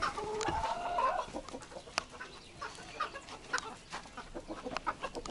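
A rooster on a farm clucks and calls at a moderate distance, with a louder burst early on, then scattered softer clucks over quiet outdoor ambience.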